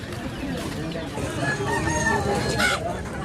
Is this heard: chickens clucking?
yes